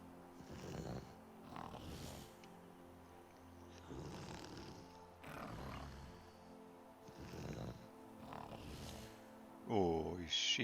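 A creature named Mrs. Wiggles snores in a video game, with slow, regular rasping breaths repeating about every second and a half at a low, steady level, followed by a brief sharper sound at the end.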